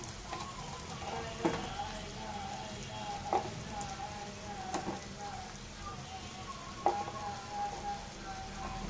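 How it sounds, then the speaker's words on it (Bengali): Onions fry in oil in a pan as turmeric goes in, giving a soft continuous low sizzle with a few sharp spoon taps on the pan, fairly quiet overall. "দেখুন আমার পেঁয়াজটা ভাজা ভাজা হয়ে গেছে পেঁয়াজটা অনেকটা লাল হয়ে গেছে এখন একটু হলুদ মলুদ দিয়ে দেবো"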